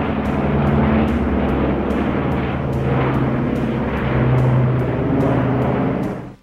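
A firefighting aircraft flies over a wildfire with a loud, steady propeller drone, close and continuous, then cuts off abruptly at the very end; no voices.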